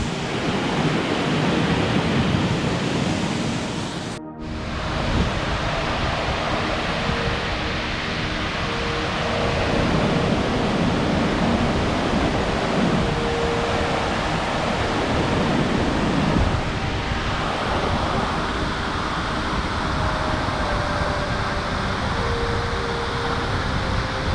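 A mountain creek in the Cascades near Mount Rainier rushes in a loud, steady broadband roar of flowing water that continues unbroken after a brief cut.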